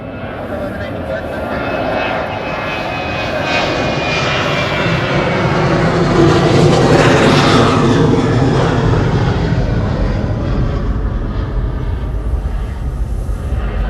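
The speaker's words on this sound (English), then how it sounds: "Sound from the A380 was amazing" Airbus A380 airliner engines roar loudly and steadily at an airport, the broad rumble swelling toward the middle of the pass and easing slightly afterward, with no one speaking.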